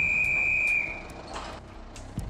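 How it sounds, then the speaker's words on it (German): A single sharp, steady whistle blast signalling a circus crew's hand cart to stop during a move, loud and close for under a second, then fading into quiet outdoor background. "Einmal pfeifen heißt stehen bleiben."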